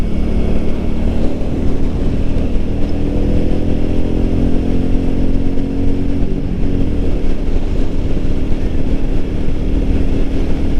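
A Royal Enfield Meteor 350 motorcycle is ridden on a test ride, its engine holding a loud, steady low drone with rushing wind noise throughout. Close up, with no voices over it.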